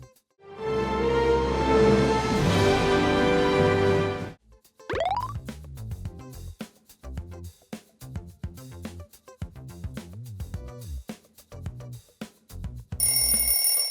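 The Paramount Pictures logo sound plays: a sustained rich orchestral chord that cuts off, then a rising sweep and a run of plucked, percussive tones, ending with a bright burst.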